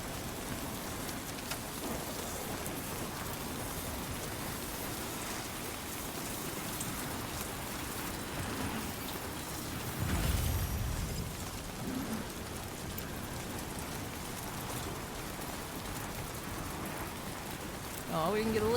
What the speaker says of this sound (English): Pissing down rain.